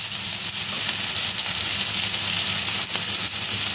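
Veg noodles seasoned with salt and pepper are stirred in a frying pan over steady, loud, close sizzling, with light stirring scrapes and no talk.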